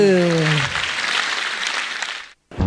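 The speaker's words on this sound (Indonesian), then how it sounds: "Langsung aja kita berikan tepuk tangan untuk Zawi" Audience applause at a school anecdote-text performance, a broad wash of clapping that starts under a voice and runs steadily for about two seconds before cutting off abruptly.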